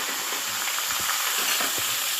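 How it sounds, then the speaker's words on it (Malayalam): Curry leaves frying in hot oil for a crispy aval mixture, a loud, dense, steady sizzling hiss up close with a few faint low knocks beneath, no talk. "കറിവേപ്പിലൊന്ന് വറുത്തെടുക്കണം"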